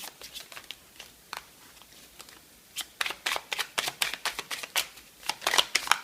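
Small oracle cards handled from a deck, soft papery flicks at first, then a quick run of crisp riffling shuffles close by, growing louder and denser toward the end with almost no talk.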